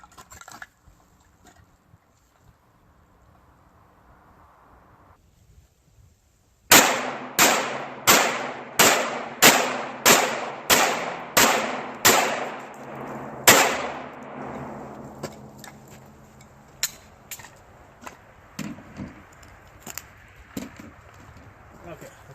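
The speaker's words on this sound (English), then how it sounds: "I'm using the Glock 17." Glock 17 pistol firing full metal jacket target rounds through house walls, a rapid string of about a dozen sharp, close reports at an even pace, followed by scattered fainter clicks and knocks.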